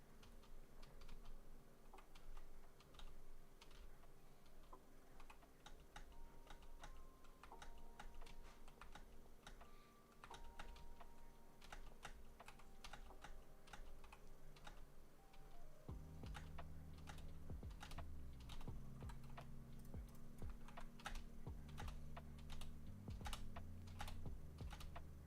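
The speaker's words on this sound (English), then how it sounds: "I don't know if you guys can hear my keyboard." Rapid clicking of keystrokes on a computer keyboard during a Roblox gaming session, a steady dense patter that carries on throughout over a low background hum and game sound.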